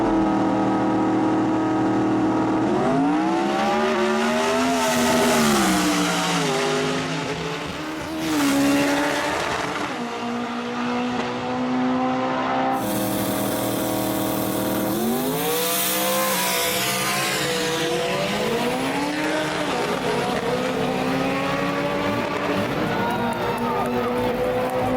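A 3,000-pound drag car with a factory-block, water-cooled Coyote engine roars down the strip, its loud engine note sweeping up through gears, falling away, then surging again on a second run, with tire noise and continuous racing roar.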